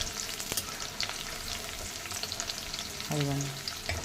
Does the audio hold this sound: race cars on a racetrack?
no